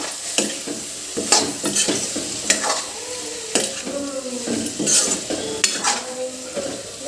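Masala paste for matar paneer fries in a pan, a close sizzle broken by repeated scraping strokes of a spoon stirring against the metal at an uneven rhythm.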